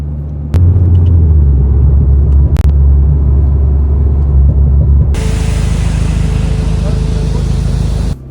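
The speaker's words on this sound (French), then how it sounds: "Donc quand ça résonne, l'échappement on l'entend." Alpine A110 Pure exhaust droning with a steady low resonant rumble while driving on a road, joined midway by loud broadband wind and road noise, with no speech.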